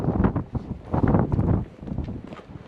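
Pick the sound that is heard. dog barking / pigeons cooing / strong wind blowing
strong wind blowing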